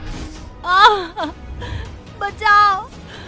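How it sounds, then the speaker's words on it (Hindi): A girl cries behind a locked door, with two strained, wavering sobbing wails close up and fairly loud. "जिसके अंदर से पीहू की रोने की आवाज आ रही थी"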